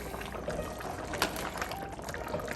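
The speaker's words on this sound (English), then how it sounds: "All right, so give it a good stir." Clams being stirred in a pot of Manhattan clam chowder, a steady wet sloshing and bubbling with shell clatter, continuous and close throughout.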